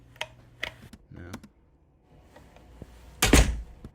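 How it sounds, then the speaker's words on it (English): A household door slams with a single heavy, low thud near the end, used as a kick-drum sample; before it come a few lighter clicks and knocks, with no talking. "that door could be killer for a kick sound because it's got a lot of low end to it"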